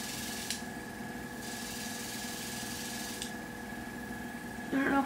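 Airbrush spraying blush makeup, a thin, steady compressor hum with a faint airy hiss running continuously, fairly quiet, with a short burst of louder noise at the very end.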